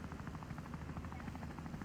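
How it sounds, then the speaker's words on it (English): A helicopter in the video game Wobbly Life gives off a steady, close rotor drone with a fast, even pulsing chop that runs unbroken throughout. "I have a helicopter."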